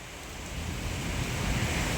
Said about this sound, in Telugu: మా ఊర్లో మాత్రం దంచేసింది వాన ఈరోజు